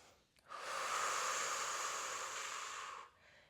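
Deep, steady breath drawn in during a lunging hip flexor stretch in a low-impact full-body Pilates session; one long, loud, airy exhale of about two and a half seconds, close up, with no talking over it.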